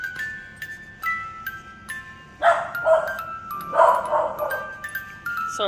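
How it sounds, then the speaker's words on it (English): Dogs bark repeatedly indoors in a home during the holidays, a run of sharp woofs in uneven bursts heard over a tinkling wind-up Nutcracker toy playing its melody, no voices. "Sorry for the dogs barking."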